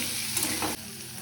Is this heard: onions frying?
yes